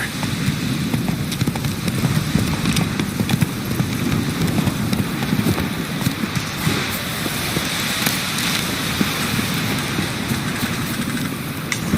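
Roach, Geralt's horse in the video game Witcher 3, gallops with steady low hoofbeats that stay continuous and fairly loud against a dense game soundscape.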